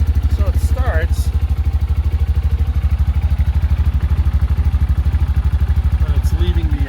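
A Cub Cadet lawn tractor engine runs at a steady idle, a loud, even low-pitched chugging pulse throughout, with a brief voice near the start.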